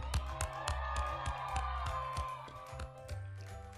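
A crowd at a slime world record event claps and cheers after the record is announced, steady applause with sharp rhythmic claps close by, fairly quiet overall, with a voice briefly heard.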